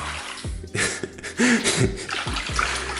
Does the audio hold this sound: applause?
no